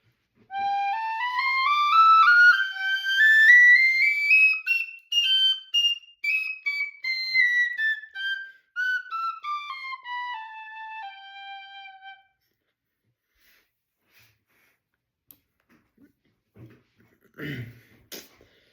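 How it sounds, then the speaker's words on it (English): A small, very high-pitched tin whistle plays a rising and then falling run of clear, piercing notes, near and loud, followed by quiet and a brief cough-like noise. "this is the highest sounding whistle"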